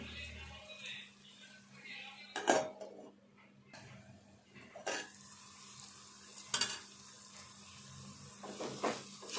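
Bitter gourd curry frying in a pan, with a spoon scraping and stirring in occasional louder bursts over a steady low sizzle, with a faint voice in the background.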